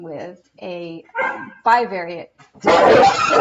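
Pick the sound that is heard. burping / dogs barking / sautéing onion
dogs barking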